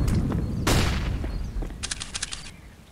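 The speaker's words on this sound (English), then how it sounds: "Grenade out." A grenade bursts in a Counter-Strike match on the Inferno map, one sharp loud blast followed by a fading rumble and scattered distant gunshots.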